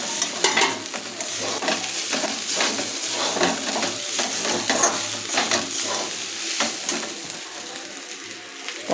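Food frying in a pan while being stirred continuously, with a loud, steady sizzle broken by frequent scraping and clattering strokes of the spatula, close up and with no talking.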